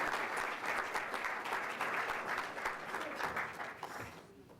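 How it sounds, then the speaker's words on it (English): A graduation audience claps steadily in a hall, with dense applause of moderate loudness throughout that fades out toward the end. "let's give PrintPak another round of applause."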